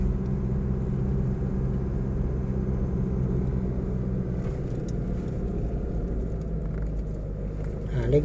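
A steady low pickup truck engine rumble while shifting into second gear, droning continuously with little change and a faint clatter near the end.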